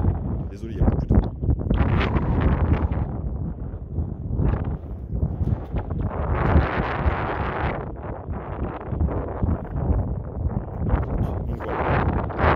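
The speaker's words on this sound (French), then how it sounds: "il y a beaucoup de vent" Strong wind buffets the microphone outdoors beside a classic Alpine GTA V6 Turbo under restoration, rumbling in uneven gusts throughout while people talk in French over it.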